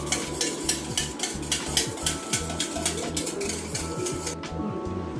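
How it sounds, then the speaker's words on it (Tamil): Eggs being mixed in a bowl for muffin batter, with a steady rhythmic beat of utensil strokes and light clinks against the bowl, close and moderately loud. "முட்டையை நம்ம இப்போ மிக்ஸ் பண்ணுறோம்."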